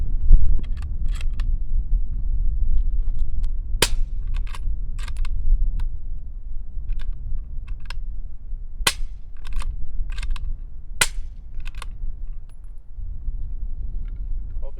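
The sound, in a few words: 300 Blackout rifle firing hand loads, ejecting cases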